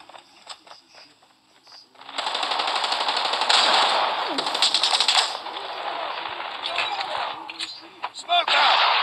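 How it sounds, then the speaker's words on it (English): A grenade blast and gunfire in Call of Duty Mobile. The start is quiet with scattered clicks, then a dense burst of gunfire and explosion noise runs for several seconds and tapers into intermittent shots. "Grenade out."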